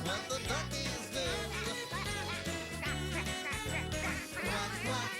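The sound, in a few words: voices imitating duck quacks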